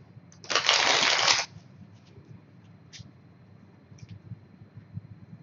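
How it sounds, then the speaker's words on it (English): Cards for the board game Zombicide Black Plague being shuffled in one brisk, loud riffle burst of about a second, followed by a few faint clicks and light table handling. "I'm going to go ahead and shuffle again."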